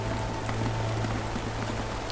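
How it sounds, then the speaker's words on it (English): A steady drizzle taps on canvas awnings, wooden posts and roofs around a medieval market square, an even continuous patter at moderate level with no voices. "not a storm, just a steady, patient drizzle, tapping on canvas awnings, sliding down wooden posts, and ticking softly on the roofs that surround the square"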